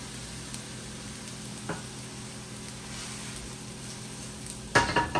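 Tomatillo sauce heats in a pan on low heat, making a soft continuous sizzle with a few light utensil taps and a louder clatter of cookware near the end, with no voices.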